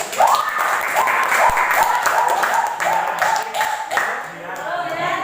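A classroom of high school students claps together during an economics lesson, brisk and fairly loud, with a voice sounding over the clapping for much of it and a short lull near the end.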